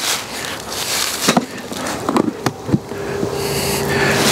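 Honey bees buzz steadily from an opened hive during a warm winter check, a close, continuous drone broken by several sharp knocks and clicks in the middle.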